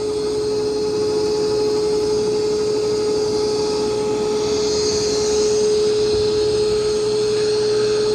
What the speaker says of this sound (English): It's doing a good job vacuuming.